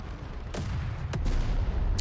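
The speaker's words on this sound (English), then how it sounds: "The artillery came down on our own man" Artillery and explosions in a WWII Russian campaign battle game: three heavy booming impacts, one at a time and fairly close, over a low rumbling background.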